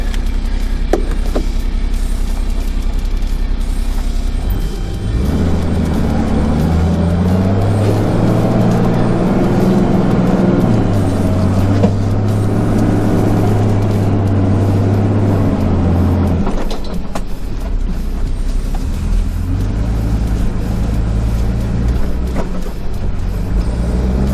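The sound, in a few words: 4x4 towing trailer driving forward in sand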